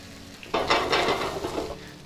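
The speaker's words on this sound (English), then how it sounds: "then we'll add our Gourmet Garden squeezed garlic to the pan" Tilapia fillets sizzling in a hot pan as squeezed garlic goes in, with a sudden surge of crackling frying noise that stays lively for over a second, close up and without talk.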